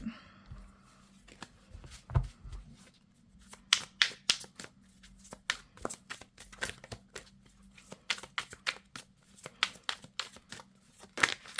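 Tarot cards are handled and laid on a table in a series of sharp, close card snaps and slides, some clustered in quick bursts, with soft rustling in between and no talk.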